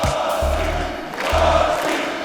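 A large wrestling crowd chants a wrestler's name in rhythmic bursts, two booming syllable groups rising over a roaring arena background.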